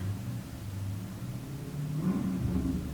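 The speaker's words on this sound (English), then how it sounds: "Although it is a sweet Corvette, that revving is annoying." A Corvette engine revving across the street, a mid-pitched rumbling drone that rises in a throttle blip near the end, moderately loud and distant with no voices over it.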